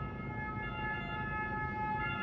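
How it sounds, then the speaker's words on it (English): An ambulance siren in an Italian street holds a steady, loud wailing tone throughout, with no other sounds standing out. "That's an ambulance."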